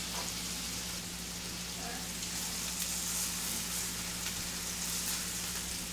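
Burger patties frying in a pan before cheese goes on: a steady, dense sizzle with a constant low hum underneath, close and even throughout, with no pauses.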